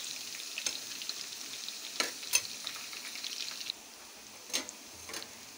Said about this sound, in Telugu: ఎల్లుల్లిపాయలు బాగా వేగిపోయినాయి కదా